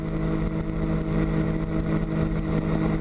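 A weight-shift trike aircraft's engine drones steadily and loudly in flight, a continuous close, even mechanical hum with no breaks or pauses.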